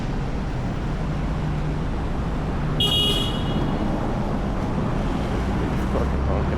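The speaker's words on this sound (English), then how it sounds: "They honk more here." In busy street traffic in Kuala Lumpur, a single short car horn honks near the middle, rising above steady loud roadside wind and engine rumble.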